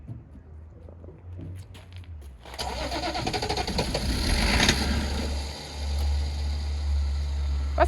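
A BMW 325 tds diesel car engine cranks and catches after a fresh battery is fitted, a brief whirr of the starter followed by a loud rough idle that settles into a steady deep rumble up close.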